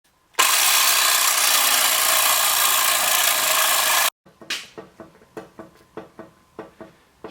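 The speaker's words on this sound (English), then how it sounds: "I think I'm going to go ahead and cut the mufflers off" A power saw cuts through the muffler on a Chevrolet Caprice, a loud continuous high grinding whine for several seconds, then stops abruptly, followed by a series of rhythmic metallic knocks and clanks.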